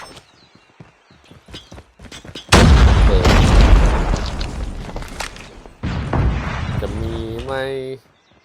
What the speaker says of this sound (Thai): โยนระเบิดไปก่อน